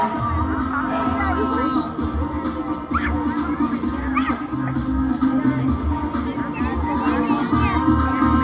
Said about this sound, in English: Please cheer them parents.